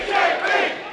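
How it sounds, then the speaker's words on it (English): Wrestling crowd at a WSW Australian Championship event cheers loudly, a dense roar of voices swelling and fading over a brief moment. "I think the crowd's picked a favourite."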